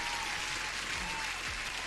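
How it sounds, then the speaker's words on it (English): A short burst of continuous applause, loud and even from start to finish, with a faint low hum underneath. "Another applause."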